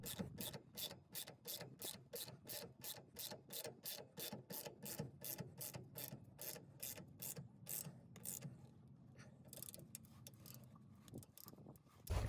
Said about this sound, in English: put your nut and bolt back in. 18 millimeter nut, 15 millimeter bolt. Just go and tighten that.